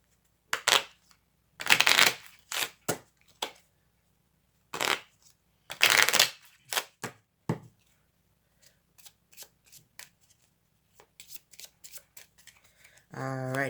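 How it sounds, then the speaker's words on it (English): Tarot cards shuffled by hand during a card reading: several crisp riffling bursts and softer slides spread across the stretch, close and fairly quiet, with sparse faint rustles afterward. "now let's shuffle them up"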